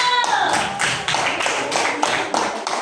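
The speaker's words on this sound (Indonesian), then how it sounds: "tepuk tangan dulu" An audience claps during a quiz session on Pancasila, giving a short run of crisp, evenly spaced claps close by, with a brief voice at the very start.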